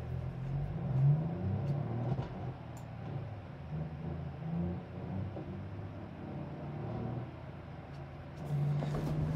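A truck engine in BeamNG.drive revs in low, rumbling surges that rise and fall, rough and growling at moderate volume, with a couple of brief clanks and knocks during a chain-towing destruction run.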